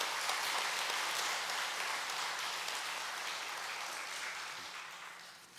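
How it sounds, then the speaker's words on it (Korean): Church congregation applauding during a Sunday worship service, a dense sustained clapping that gradually fades, with no talk over it. "그냥 열심히 하시라고 박수 한번 격려하시겠습니다."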